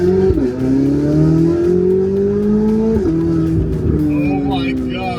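A Corvette C8 Z06 accelerates hard on part throttle with a high, rising engine note climbing through several gear changes, loud and close from inside the car, with brief dips at each shift.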